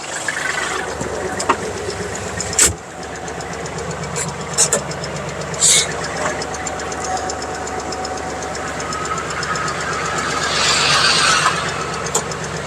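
A Kubota GL-27 tractor with an air-conditioned cab, four-wheel drive and power steering runs with its engine idling and then revving, a loud steady knocking diesel drone with sharp bangs and a rising surge near the end.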